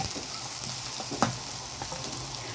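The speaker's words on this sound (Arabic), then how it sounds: "هننزل بالفلفل الاخضر. بسم الله. نقلب كويس." Green peppers frying with onions in a pan for a ful medames dish, a continuous close sizzle with a few scrapes and one sharper clack of the spoon as they are stirred, no voices.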